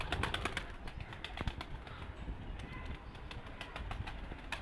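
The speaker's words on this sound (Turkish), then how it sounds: "kuşları bir açtım. Hepsi havalandı." Pigeons released from a loft, including young birds, take off together in a burst of wing flapping, with dense fluttering and rustling close by and a few light calls, continuing steadily without talk.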